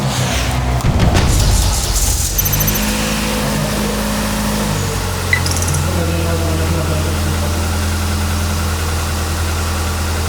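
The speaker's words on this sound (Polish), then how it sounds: "Myślę, że dźwięk tego silnika zrekompensuje ci." A car engine runs in a workshop. It opens with a loud, rough burst in the first two seconds, then settles into a steady, low idle hum for the rest, with faint voices in the background.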